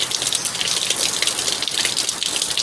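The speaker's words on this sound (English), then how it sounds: "As soon as I turn that water on" Water gushes steadily from a hose turned on to run a Johnson 20 hp outboard motor in a test setting, a continuous close, full rushing wash with no talk.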